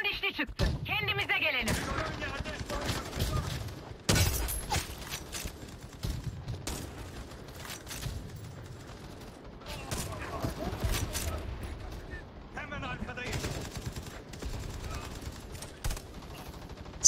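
Automatic gunfire rattles in rapid bursts in the online shooter Battle Teams 2, with dense volleys, thuds and mechanical clicks while a player talks over the action.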